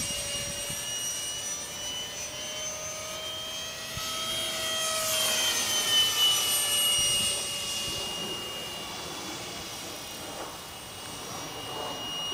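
Remote control Art Tech F/A-18C Blue Angels electric ducted fan jet with a brushless motor flying at full throttle, a steady high whine swelling and shifting in pitch as it passes overhead outdoors, with faint voices nearby.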